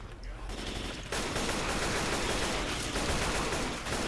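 An AK rifle firing in the zombie shooter Left 4 Dead 2, a dense, loud stream of rapid automatic shots that starts after a brief lead-in and keeps hammering close up to the end.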